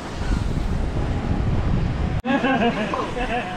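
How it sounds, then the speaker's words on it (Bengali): Sea water and waves at the shore of Mousuni island, a steady loud wash of surf with heavy wind rumble on the microphone, briefly interrupted and then continuing under faint background voices. "এখন জলটা একদম পুরো সামনে চলে এসছে, দেখো জলের আওয়াজ শুনতে পাবে।"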